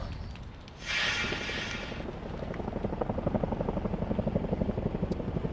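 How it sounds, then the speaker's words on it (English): A helicopter's steady rhythmic rotor thumping over a California wildfire grows clearer over a dull background rumble, sounding distant and moderately faint. "you may be able to hear the helicopters flying in the distance."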